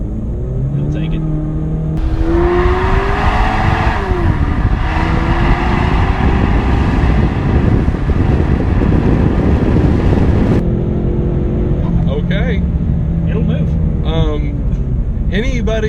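A Roush-tuned 2015 Ford Mustang EcoBoost four-cylinder engine revs and accelerates loudly, rising through gears in a sustained roar before settling to a steadier drone, with people talking inside the car over it.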